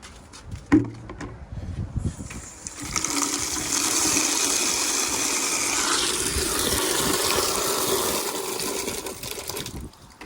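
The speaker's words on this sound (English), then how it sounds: "Alright, so let's go fill this up with the water." Water gushes steadily into a bin from a tap or hose, following a clunk, with a strong rushing stream held for several seconds before it tapers off, close and alone.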